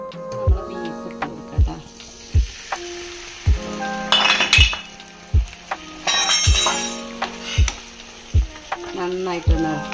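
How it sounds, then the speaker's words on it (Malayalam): Turmeric and coriander powder sautéed in a pan for a beef dish: a spoon clinks and knocks against the pan in a steady rhythm over a soft sizzle, with brief louder stirring scrapes. "ഒരിത്തിരി മല്ലിപ്പൊടി കൂടി കൊടുക്കാം അതൊന്ന് വഴറ്റിയെടുക്കട്ടെ"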